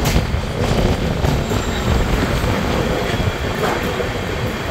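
Kanchanjungha Express LHB train near Sealdah, running steadily with a continuous loud broadband rumble and rattle of coaches on track, no voices.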